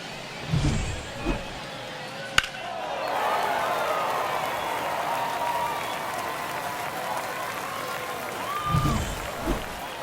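A baseball stadium crowd roars after a home run, a broad sustained swell of cheering and applause that rises, holds for several seconds and fades, with a commentator's voice at either end.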